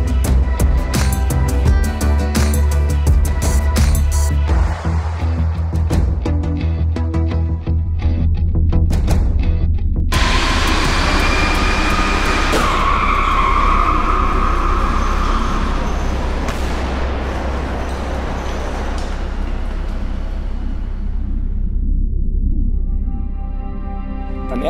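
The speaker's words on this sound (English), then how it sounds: "With the first crash test, we simulated something that can happen every day on the road, a collision with another vehicle" TIGIS EUROPA ambulance crash test simulating a collision with another vehicle: a steady rumble and a few sharp knocks lead to one loud sudden impact midway, followed by ringing metallic debris that slowly fades.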